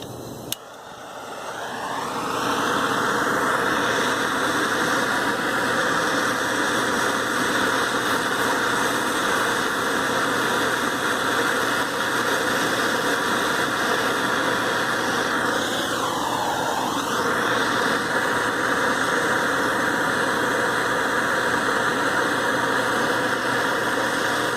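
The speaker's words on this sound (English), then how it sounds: "So let's go ahead now and just torch test the front some more." A blowtorch roars steadily and loudly against the front display of an Alcatel Pixi Glitz phone, with a constant hiss and rumble that holds without a break for over twenty seconds.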